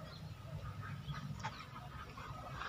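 A duck quacks a few times in a rural Minang village setting, fairly faint under a steady background hum.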